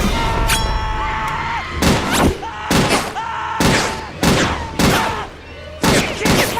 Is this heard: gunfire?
yes